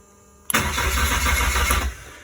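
A Ford Sierra-based Locost kit car with a troublesome ignition switch is started by key: a sudden crank catches into a loud nearby engine note that runs for under two seconds and then cuts off.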